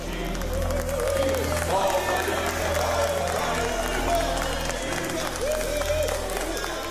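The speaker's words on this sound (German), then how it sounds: "Auch unter dem Jubel der begeisterten Haussklaven." Cheering and applause in a palace theatre at the premiere of a new national anthem, crowd clapping and cheers blended with music and voices in a busy, continuous mix at moderate level.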